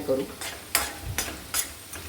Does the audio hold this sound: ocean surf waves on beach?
no